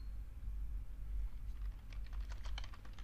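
Quiet, close patter of keystrokes on a computer keyboard, starting about halfway through over a low hum, with no talking.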